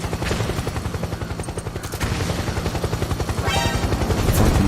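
Helicopters in Metal Gear Solid 4 thump with a rapid, rhythmic rotor pulse that grows louder toward the end, mixed with bursts of gunfire in a loud combat scene.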